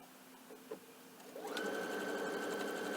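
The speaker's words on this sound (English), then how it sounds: "I'm going to use my 1/4 inch foot, and I'm going to stitch that seam" A sewing machine with a 1/4 inch foot stitches a quilt binding seam, starting after a couple of soft clicks and running at a steady, close, continuous whir for the second half.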